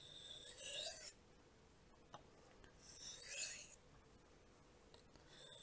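A BPS Knives Savage bushcraft knife drawn across a Suehiro whetstone, making two long, faint gritty rasping strokes separated by quiet pauses and a small tap.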